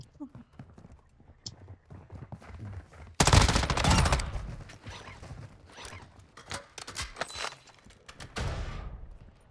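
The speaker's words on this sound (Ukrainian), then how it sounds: "Там ще стріляють." Bursts of rapid gunfire crackle loudly, with a long sustained volley and scattered shots afterward, under quiet voices talking, from Call of Duty: Modern Warfare II Warzone 2.0 DMZ at Ashika Island port.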